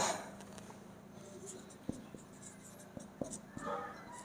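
A pen writes out a trigonometry math solution on paper, faint close scratching strokes with a few sharp taps, under a quiet voice speaking.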